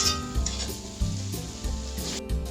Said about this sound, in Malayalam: ഗരം മസാല, മുളക് പൊടി ഇതെല്ലാം ഇട്ട് നല്ലോണം പൊടിയുടെ പച്ചമണം മാറുന്നിടം വരെ ഇളക്കുക